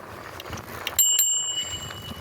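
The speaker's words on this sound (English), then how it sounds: "Just ring your bell in case there's a dog or a walker." A bicycle bell rings twice in quick succession, bright metallic dings that stand out clearly over outdoor road noise and wind on a ride round Yorkshire, the second ring trailing off.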